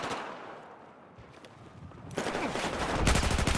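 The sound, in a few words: SG553 rifle gunfire in an 8v8 video game match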